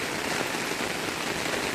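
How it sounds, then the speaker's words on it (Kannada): Very heavy rain pours down in a rural village area near Tumakuru, Karnataka, where a borewell is being drilled; a steady, dense broadband hiss continues unbroken and loud throughout, with no voices. "ಅತಿ ಭಯಂಕರವಾದ ಮಳೆ."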